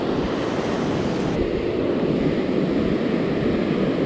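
Ocean surf washing onto a beach, a steady loud roar of breaking waves with wind buffeting the microphone throughout, no voices.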